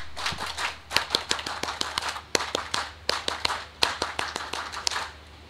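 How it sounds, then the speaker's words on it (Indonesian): A gathered crowd performs the Indonesian scout clap at a school launch event, producing many sharp, close claps in a quick, patterned rhythm with short gaps between bursts. No one talks. "Dua kali tepuk pramuka"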